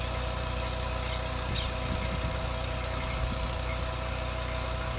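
An old-model Massey Ferguson 240 tractor engine drives a turbine tube-well pump. Its steady, close, low diesel drone runs without a break for the whole stretch, with no talk.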